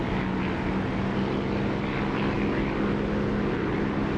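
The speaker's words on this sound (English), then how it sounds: "the engine sound, the volume will pick up as I get close to the runway" Aircraft engine in the DCS flight simulator game, a steady loud propeller drone holding an even pitch throughout while approaching a runway.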